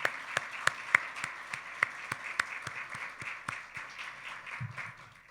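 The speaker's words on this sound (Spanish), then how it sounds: "Denle un aplauso al Señor." A church congregation claps in response during a Spanish-language sermon, with sharp, scattered, fairly regular handclaps that ease off and fade toward the end.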